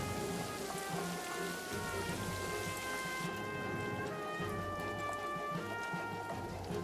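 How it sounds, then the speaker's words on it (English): Steady rain falls in the World War I trench game All Quiet in the Trenches, a dense continuous patter on surfaces with drips. Faint tonal game music runs underneath, and the hiss grows slightly quieter partway through. "it sounds like the rain stopped, but it hasn't"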